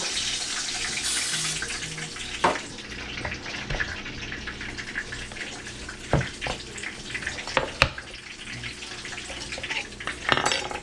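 Steady sizzling and bubbling of plantain balls frying in a pan, with occasional sharp clinks and knocks of utensils against the pan.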